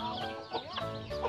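A flock of black mother hens with many chicks clucking and peeping close by on a farm at feeding time, a dense, continuous chatter of overlapping calls.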